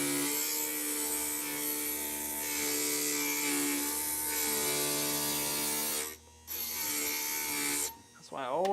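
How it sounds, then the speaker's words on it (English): A glass grinder grinds down the edge of a piece of stained glass for a lemon design, giving a close, continuous whirring, rasping drone with two brief pauses near the end. "So we're going to go ahead and grind that down"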